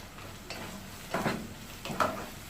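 Mutton keema cooks in a pan with a soft, steady sizzle, broken by a few louder scrapes and clinks as it is stirred.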